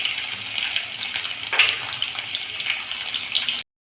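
Halved garlic cloves frying in hot oil, a steady bright hiss and sizzle lasting a few seconds, a slightly louder crackle midway, then cutting off abruptly, with no talk.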